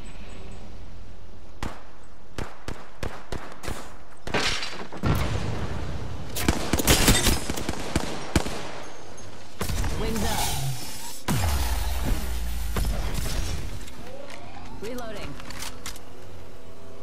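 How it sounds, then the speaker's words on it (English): Bursts of gunfire from an Apex Legends match ring out in irregular volleys, sharp shots clustering loudly mid-clip over a busy game soundscape, with voice lines spoken in between. "Firing."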